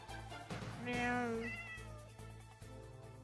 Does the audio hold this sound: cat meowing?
yes